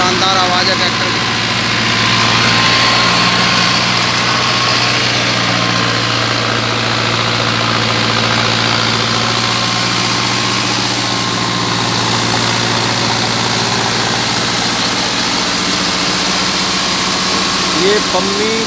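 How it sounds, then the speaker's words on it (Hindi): A new 2019 Mahindra Arjun Novo 605 DI tractor engine idles nearby with a steady, even low rumble and hum that holds for the whole stretch without revving. "बहुत शानदार आवाज़ है ट्रैक्टर की"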